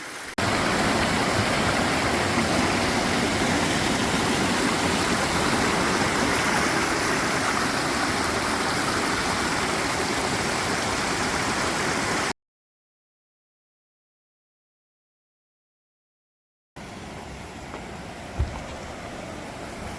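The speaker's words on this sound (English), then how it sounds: "next to this beautiful little creek" A small creek flows steadily in the open air, a continuous broadband rush of water lasting about twelve seconds, then silence, then a quieter stretch of flowing water with one brief knock.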